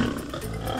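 A lion roars, a short, deep, rough growl heard up close with nothing else in it.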